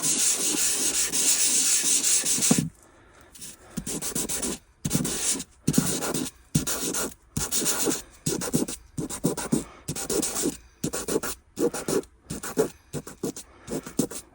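Sandpaper scuffs an acetate sheet for resin mould work, starting with a long, steady rasping rub and then breaking into a quick series of short scratchy strokes, close and clear.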